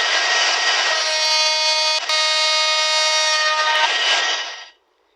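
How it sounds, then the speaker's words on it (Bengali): A loud, sustained multi-tone train horn from a train video game, sounding steadily for about four seconds with a brief break midway, then cutting off and fading out. "এটা হরেন দিবে, আপনার হরেনটা ওইটা শুনে নেন।"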